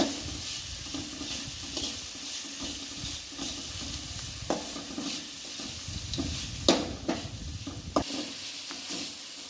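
Steady sizzling of turmeric sautéing in a hot pan for potato masala, with intermittent scraping and stirring clicks of a utensil, close and continuous.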